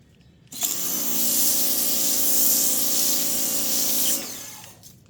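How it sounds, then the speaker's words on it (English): A loud, hissing foam spray from an MJJC Foam Cannon S V3.0 onto a car panel blasts continuously for about four seconds, with a steady pump whine underneath, then cuts off abruptly. "I hope the camera focuses on the panel and let's spray it."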